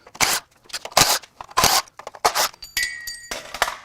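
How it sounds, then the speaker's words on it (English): Bolts and hoses being removed from the failed FA20DIT engine of a 2021 Subaru WRX at 95,000 miles: a quick series of close ratcheting clicks and metallic scrapes in short bursts, with a brief whine in the middle. "now I need to unbolt this thing."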